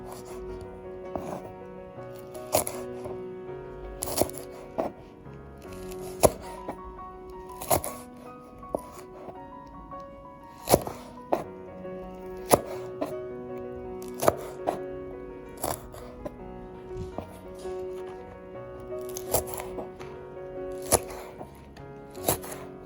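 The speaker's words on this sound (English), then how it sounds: "So cut it into nice and thin slices." Green chilies, tips removed, are sliced thin at a slant, producing repeated sharp knife taps on a board in an uneven rhythm over a steady tonal background hum.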